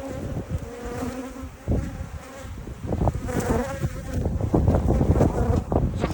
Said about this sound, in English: It's the nurse bees